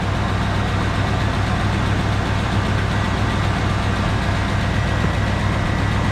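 A 1984 Ford F150 engine idling, a steady loud low rumble close by, unbroken and even throughout, with no voices.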